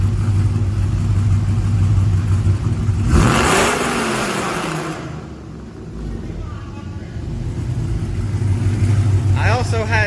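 A Ram 1500 pickup truck engine with DynoMax Race Bullet mufflers revs up loudly while in park, swelling and then falling back while the engine rumbles on underneath.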